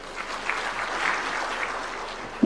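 Audience at a public gathering in Muranga, Kenya clapping steadily in a welcome, a dense, even patter of many hands filling the space, moderately loud with no talk.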